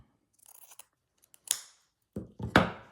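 Small scissors snip through lace for a miniature project in a few separate close cuts, short crisp crunching snips with quiet gaps between, the final cuts louder.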